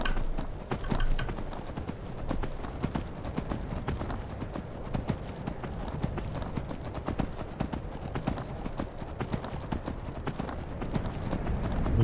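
Horse hooves galloping in the video game Skyrim, a steady rapid clip-clop of a ridden horse that runs continuously and close up, with a brief whinny near the start.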